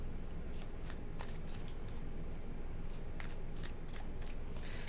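Tarot cards riffled and shuffled by hand in a quiet room, a run of soft, crisp flutters and papery snaps scattered across several seconds, faint and close with no talk.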